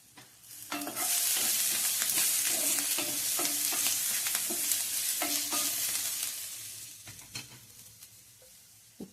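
Mushrooms with turmeric powder sauté in a pan, a steady close sizzle broken by repeated scraping stirs of a spoon, fading toward the end.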